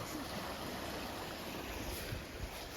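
Fast-flowing water in a village stream rushes steadily as an even, continuous broadband wash, with no voices over it.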